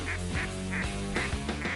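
Ducks quacking in repeated bursts, loud and close, with a steady background hiss and no talking.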